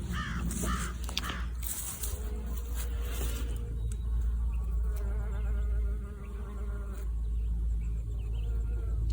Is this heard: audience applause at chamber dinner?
no